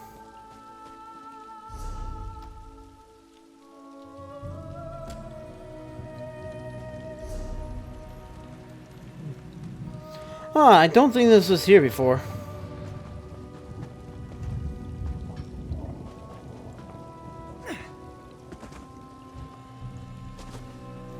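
Rain weather in Elder Scrolls Online Elsweyr: a soft, steady patter of droplets under sustained musical tones, with a brief louder splashing burst midway and a voice speaking quietly.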